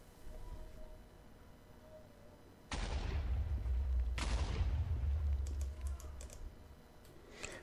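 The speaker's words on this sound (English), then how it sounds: "how strong can this explosion be?" Explosion in Minecraft with the FTB Infinity Evolved modpack: a quiet moment breaks into a sudden loud blast, a second burst follows with a rumbling tail, then a few sharp crackles as it fades.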